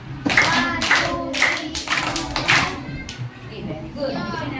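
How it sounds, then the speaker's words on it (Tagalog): A classroom gives five loud, evenly spaced group claps in a steady rhythm, with children's voices chattering underneath. "bigyan nga natin class ng 5 palakpak"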